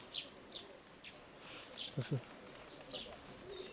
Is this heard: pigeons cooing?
yes